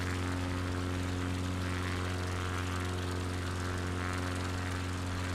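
Inside the cabin of a small propeller plane in flight over North Queensland, a steady, droning engine and propeller hum fills the air continuously without letup.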